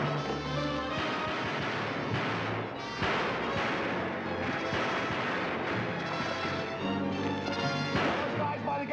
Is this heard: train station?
no